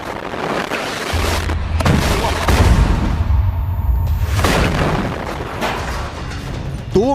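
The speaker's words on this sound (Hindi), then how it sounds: "बहुत से हमले हैं, बहुत से धमाके हैं।" Explosions roll through war fighting in Gaza, with heavy booms over a dense, continuous rumble and crackle of blasts and gunfire at a steady, loud level.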